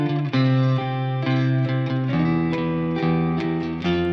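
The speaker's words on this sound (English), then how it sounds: "So now it's a sus2." A sustained sus2 chord on a heavily effected guitar with distortion, chorus and reverb, resolving over a moving bass line, with a clear bass shift midway and repeated chord attacks ringing loud and close.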